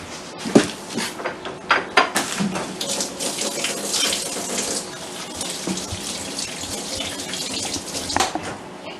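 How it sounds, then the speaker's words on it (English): Tap water runs steadily into a sink while hands are washed, a close, continuous splashing hiss with small clunks and splashes on top, loud throughout with no talk. "the first thing we're going to do is always wash your hands."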